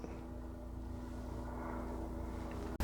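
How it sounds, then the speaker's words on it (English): A helicopter passes overhead outside a backyard shed recording studio, heard as a steady, fairly quiet low droning rumble that holds evenly for a few seconds before cutting off abruptly. "it sounds like that's a helicopter"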